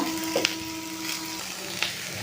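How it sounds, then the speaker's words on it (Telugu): Leftover biryani sizzles steadily in a pan over high heat, a soft continuous frying hiss with a few scraping stirs. "ఇప్పుడు ఇందులో ఈ బిర్యానీ వేసేసుకున్నాము హైలో పెట్టుకొని చేసుకోవాలి"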